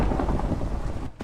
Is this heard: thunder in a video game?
yes